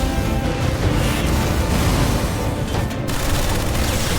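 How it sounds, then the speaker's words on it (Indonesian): Rapid Gatling gun fire in an anime battle, a dense continuous barrage of loud shots and booming impacts filling the whole stretch without pause. "Sanraku bisa membalas serangan dengan tembakan Gatling gun"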